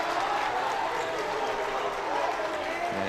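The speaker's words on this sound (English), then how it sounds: "the New Canaan sideline now going to cheer a little" A crowd on the New Canaan sideline at a varsity boys basketball game against Darien cheers as a steady, dense roar of voices and noise that holds evenly through the whole stretch.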